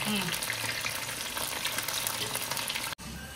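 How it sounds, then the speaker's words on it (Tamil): Mushroom pieces for a roadside kalan recipe deep fry in hot oil, giving a loud, dense, continuous bubbling hiss that drops out abruptly near the end before resuming. "நல்லா சூப்பராக ஃப்ரை ஆயிடுச்சு"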